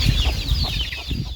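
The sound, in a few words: chickens clucking on a poultry farm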